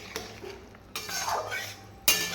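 A utensil stirs a pointed gourd, potato and paneer curry in a pan, giving close scraping and light clinking against the metal, with a few distinct knocks over a faint simmering hiss.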